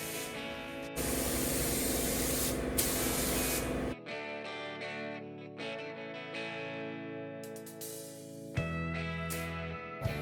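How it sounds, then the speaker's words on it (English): A spray gun applies guide coat over gray primer on the body of a classic car being restored in a body shop. The hiss is loud and continuous, with brief pauses and shifts in pitch, while other noise underneath changes tone. "After each coat of primer, a guide coat is applied to help ensure that all surfaces are flat."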